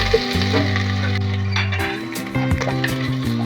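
Garlic, ginger and onion sautéing in a pan for creamy ginataang manok, a loud close sizzle with scraping stirs and a steady low hum that drops away midway, followed by clinks.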